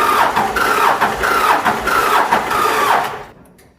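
A Ford F150 engine cranks over repeatedly after a head stud install, the starter churning in pulsing bursts as it tries to catch, loud and close, then falls silent at the end.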